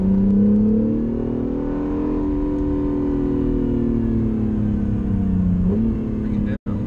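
A 2017 Acura NSX accelerating on a track, a steady engine note climbing smoothly in pitch for several seconds, heard from inside the car with a voice talking over it.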